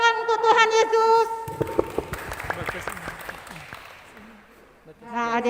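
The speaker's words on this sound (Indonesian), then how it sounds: "Tepuk tangan untuk Tuhan Yesus." A children's Sunday school church group claps together in a burst of applause, with voices speaking or singing before and after it.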